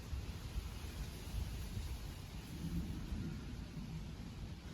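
Thunder from an approaching storm rolls as a low, faint, sustained rumble with gentle swells, heard alone and at a distance with no voices.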